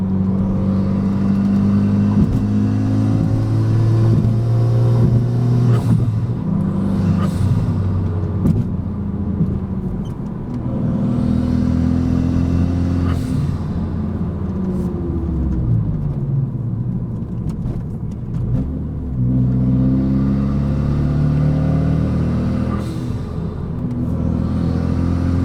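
A straight-piped Renault Megane RS RB8 drones loudly and close while driving through canyon roads, its engine note rising and falling through repeated rev swells and gear changes over a constant rumbling exhaust, with no talk.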